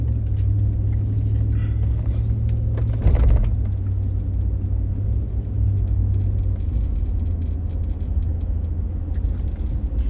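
Rush-hour car traffic in Tampa at night, a steady low rumble of vehicles streaming past with a brief louder whoosh of one passing close, continuous under light background noise.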